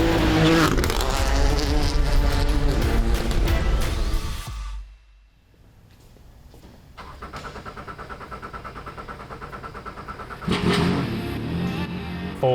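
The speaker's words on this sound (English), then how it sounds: "For the 2024 season, we have a brand new rally car, the Toyota GR Yaris Rally 2." A Toyota GR Yaris Rally 2 rally car drives with a loud, strained engine roar, then cuts to near-silence, and then a buzzing engine drone builds up again. A higher-revving burst comes near the end.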